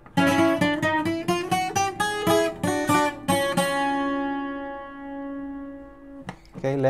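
A requinto guitar plays two passages of a song in a quick run of clearly plucked notes, then holds a long ringing tone that fades before one more brief strum, with no talking.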